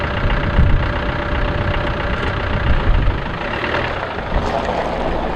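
A Land Rover Discovery engine, under repair for a leaking heater matrix, runs steadily to warm up, giving a loud, even idling rumble with broad mechanical noise and no talking.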